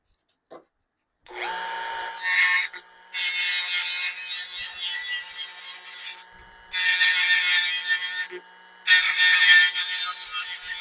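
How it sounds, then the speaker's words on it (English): A power grinding wheel strips plastic from a snowman blow mold in four bursts of high, whining abrasion separated by short pauses, close and fairly loud. "grinding wheel because it takes the plastic off pretty quick"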